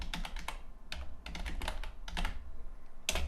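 Keys on a computer keyboard clatter in quick bursts of typing with brief pauses between, close and fairly quiet in a calm indoor room.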